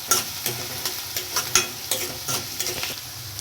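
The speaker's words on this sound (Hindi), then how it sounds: "प्याज को थोड़ा फ्राई कर लेंगे।" Onion frying in a pan for vegetable Maggi, a close, crackling sizzle with quick rhythmic spatula strokes scraping through it several times a second.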